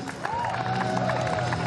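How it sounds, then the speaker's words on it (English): Audience applause and cheering for two axe-sport competitors walking onto the stage at a STIHL Timbersports quarterfinal in Australia, steady clapping throughout with an announcer's voice riding over it. "Please give a big round of applause for Mitch Argent and Chris Owen"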